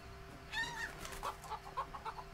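Chickens cluck in the Shadow Tactics: Blades of the Shogun video game: a few short, bright clucks close by, followed by a string of quick softer clucks over a faint steady hum.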